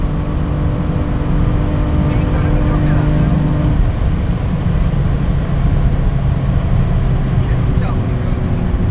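A software-tuned BMW F80 M3 CS accelerating up a ramp, a loud, steady engine drone with rising tones heard from inside the car while someone talks over it.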